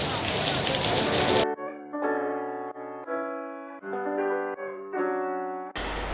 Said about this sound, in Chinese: 食完嘢出嚟落大雨